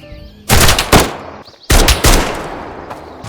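Gunfire in a hardcore survival video game set in a bleak, quiet Finnish wilderness: two loud, close bursts of rapid shots, separated by a brief near-silence.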